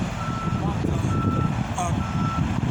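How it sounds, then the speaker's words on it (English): A reversing truck sounds steady, evenly spaced beeps amid traffic noise, the tones repeating clearly over a constant low street rumble, with a voice faintly audible underneath. "Truck is causing traffic over here"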